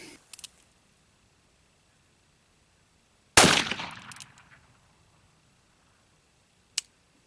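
A single loud, close report from an 1862 Pocket Navy percussion revolver, followed by a decaying echo tail, with faint small clicks before it and one short sharp click near the end.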